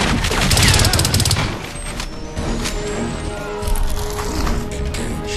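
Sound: gunfire in the video game Crysis

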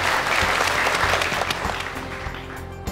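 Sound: audience applause welcoming models back on stage

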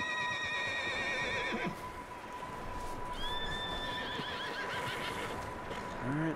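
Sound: horses neighing in Red Dead Redemption 2 video game

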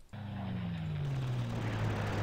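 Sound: airplane unit in Panzer Corps video game

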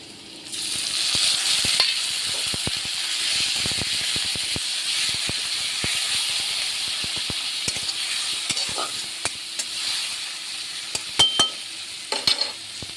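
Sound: onions and cumin frying in pan

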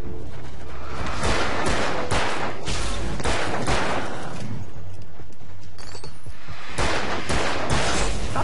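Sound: gunfire from enemies shooting in video game Alan Wake

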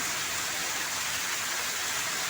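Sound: heavy rain falling in village

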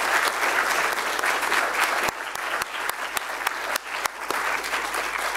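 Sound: applause

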